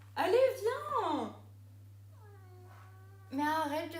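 Pet cats meow indoors at home: a long, loud, drawn-out meow up close, then a softer thin cry, then another strong meow, over a steady low electrical hum.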